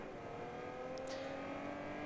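A race car engine in Test Drive Unlimited Solar Crown holds a steady, sustained drone throughout a live race event, with no clear revving peaks.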